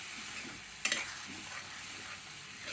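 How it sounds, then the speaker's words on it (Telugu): Masala for a rajma curry frying in oil as it is stirred in a pan, a steady soft sizzle with one sharp clatter of the spoon near the start, no voices. "ఇప్పుడు ఈ నూనె పైకి తేలేంత వరకు కలుపుతుండాలండి"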